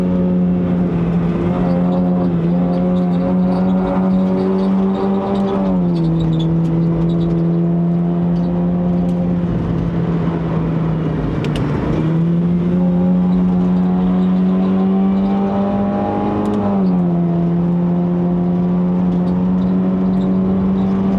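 A Honda City Hatchback 1.5L (GN5) climbing the Genting uphill road, heard from inside the car: a loud, steady engine drone held under load, with pitch dips at each gear change, and no talking.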